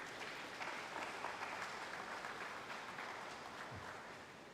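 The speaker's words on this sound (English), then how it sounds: "Give them a round of applause," An audience at a graduation ceremony for a male mentorship program gives graduates a sustained round of applause, even and distant, holding steady before easing slightly.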